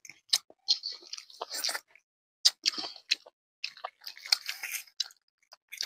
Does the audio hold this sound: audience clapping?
no